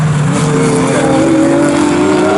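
A GT race car at Snetterton circuit roars past at full throttle, its loud engine note rising steadily in pitch as it accelerates, continuous and close throughout.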